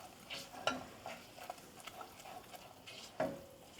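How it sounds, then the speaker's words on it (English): A utensil stirs sweet potato in a hot pan with a few distinct scrapes and clinks over a faint background sizzle, quiet and close with no talking. "At that point, we'll just keep stirring."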